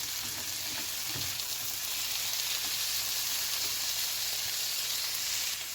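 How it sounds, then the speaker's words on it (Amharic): Tomatoes fry in a pan with butter, giving a steady, even sizzle and hiss that stays close and constant, with no voices. "ከዛ ቲማቲም አደርጋለሁኝ።"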